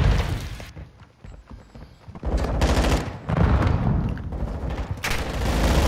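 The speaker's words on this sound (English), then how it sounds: "I'm getting shot from spawn" Dense, continuous automatic gunfire and overlapping shots from an online shooter game's hardpoint match, loud and close, building into sustained rattling fusillades.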